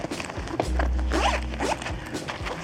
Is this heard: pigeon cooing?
no